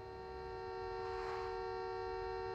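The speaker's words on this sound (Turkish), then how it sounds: "Al yine korna." A car horn blares as one sustained, steady honk in the Taxi Life city driving simulator, loud and continuous for a couple of seconds without talk.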